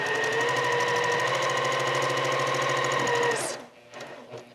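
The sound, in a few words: sewing machine sewing a quarter inch seam on quilt blocks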